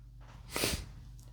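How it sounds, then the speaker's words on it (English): A sleeping baby gives a single soft, snorting snore, brief and faint against a quiet indoor background. "My baby is snoring."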